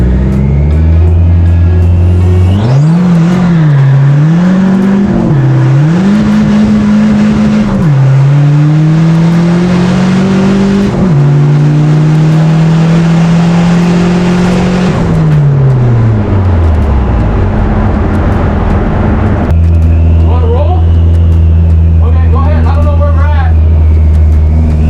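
Cars accelerating hard from a rolling start in a roll race, loud engines climbing through the gears with shifts, then easing off near the end as the revs drop away and tire or wind noise remains.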